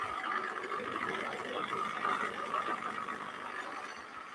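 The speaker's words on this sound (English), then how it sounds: "That's the only thing with food processors and powerful blenders." Food processor or powerful blender grinding powdery marzipan ingredients, a steady loud whirring drone that runs continuously with no talking.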